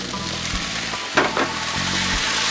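Vegetables sizzle in oil on a Blackstone griddle, a steady hiss of frying broken by a brief louder crackle and scrape as food hits the hot surface.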